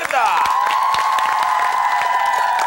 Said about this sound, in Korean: 허공진을 큰 박수로 맞이합니다.